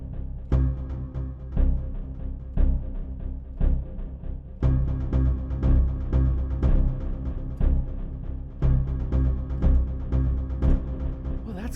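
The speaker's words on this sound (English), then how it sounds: "I'm going to put this as a synth because it sounds more like a synthesizer to me" Dark Era sample library battle patch played as a synth-like sound: dense, low, rumbling texture with repeated percussive hits in surging phrases, continuous and moderately loud with no talk.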